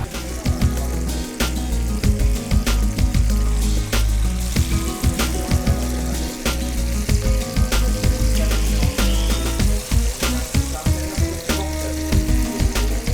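Chicken pakora pieces fry in hot oil in a deep pan with a loud, dense, continuous sizzle and bubbling, broken by frequent crackles and pops throughout.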